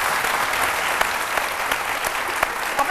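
A television studio audience claps steadily, a dense, close wash of applause with a few sharper individual claps standing out, continuous for the whole stretch.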